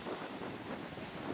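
Waves surge into a rough, sharp-edged rocky coastal blowhole on a cloudy day, a steady broadband wash of surf mixed with heavy wind buffeting the microphone, loud and continuous with no talk.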